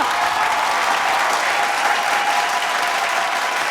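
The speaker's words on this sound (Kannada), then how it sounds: "ಅದಕ್ಕೊಂದು ದೊಡ್ಡ ಚಪ್ಪಾಳೆ ಬರಬೇಕು" An audience at an award ceremony claps continuously, a dense, even wash of applause that holds steady from start to finish.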